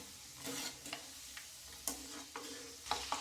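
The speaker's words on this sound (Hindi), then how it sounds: "जब ये ड्राई फ्रूट आप भूजिए तो गैस की फ्लेम को कम करके ही भूजिएगा" Cashews and almonds fry gently on a low flame for nylon poha namkeen, a soft, quiet sizzle with intermittent stirring scrapes and light clicks of a spoon against the pan.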